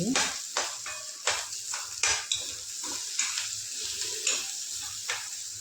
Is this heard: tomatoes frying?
yes